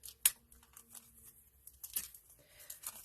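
Tape is torn from a roll during a craft project, with a sharp rip near the start and a second tearing burst about two seconds later among quieter crinkles and rustles, close and fairly soft.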